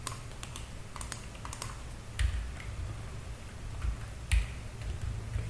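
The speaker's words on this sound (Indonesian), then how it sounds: "Jadi cukup aja kita ketikkan sesuai perintahnya, yaitu Docker." A Docker command typed on a computer keyboard, a scattering of light, separate key taps at moderate distance over a soft background hiss, with a few louder clacks.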